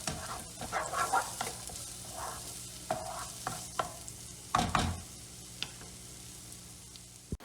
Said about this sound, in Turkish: Tavama ekliyorum ve soğanlarımı birkaç dakika soteleyeceğim